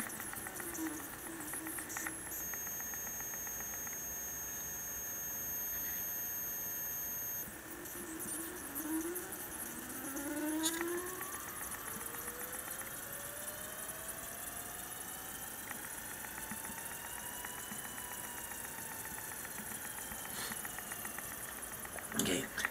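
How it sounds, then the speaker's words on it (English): A stepping motor microstepping at 1:32 under a Pololu DRV8825 driver whines steadily at close range, with rising and falling tonal sweeps as it changes speed, plus faint background hiss. "now the microcontroller is causing the stepping motor to move"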